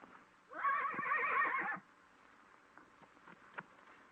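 A horse neighs loudly and close in a 1930s western setting, one long whinny lasting over a second, followed by faint scattered thumps and rustles.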